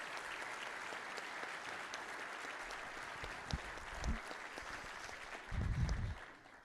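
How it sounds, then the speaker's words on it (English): A breakfast-series crowd gives a round of applause for General Carignan. The steady, even clapping sounds fairly distant and subdued, with a few louder thumps near the end. "Please, round of applause for General Carignan"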